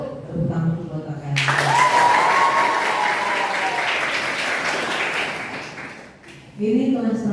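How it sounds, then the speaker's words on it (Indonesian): Audience at a school arts performance breaking into loud sustained applause for a performer, bursting in after a voice and dying down before another voice speaks. "Tepuk tangan buat kakak."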